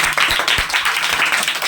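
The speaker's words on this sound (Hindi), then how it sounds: "जी ताली बजाओ बच्चों।" Schoolchildren clapping together in a classroom, a loud, close burst of many hands with a few sharper individual claps standing out, sustained for a couple of seconds.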